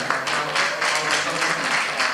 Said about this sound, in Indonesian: Tepuk tangan dulu untuk Pak Dian ya.